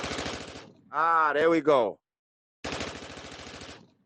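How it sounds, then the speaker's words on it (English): Rapid bursts of automatic gunfire, like a sound effect, rattle off twice, separated by a short spoken exclamation and a pause of silence. "Lick a gunshot for the Toronto Massive team."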